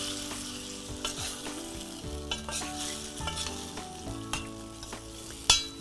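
A brinjal and paneer curry frying with Kashmiri red chili powder gets a quick stir, a continuous sizzle carrying repeated close scrapes and taps of the spoon against the pan, without speech.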